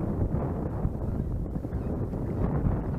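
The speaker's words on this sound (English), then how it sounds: "More than likely you can hear all this wind that's coming out right now." Wind buffets the microphone on a pond beside a pedal-drive kayak, a steady, loud rumbling roar with gusty surges and no clear voices.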